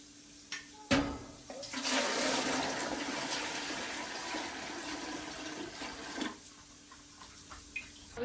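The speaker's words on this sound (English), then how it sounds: "we're going to fill it up with about 2 inches of water" Water from a tap gushes into a canning pot, a loud broadband rush lasting several seconds between handling clunks and knocks, close by with no voices.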